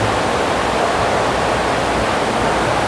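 Water pours and rushes steadily at the Fort Worth Water Gardens, a loud, continuous broadband wash with no break and no voices.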